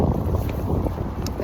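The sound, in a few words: wind blowing outdoors during a walk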